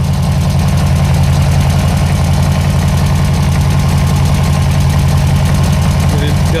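A gaseous-fueled engine idles on a test stand, a loud, steady low rumble with a constant pulsing throb that runs unbroken from start to finish.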